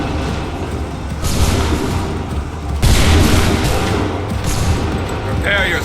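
Booming musket volleys in an Assassin's Creed III battle, with repeated loud bursts of gunfire over constant rumbling combat noise. Shouted orders come between the volleys.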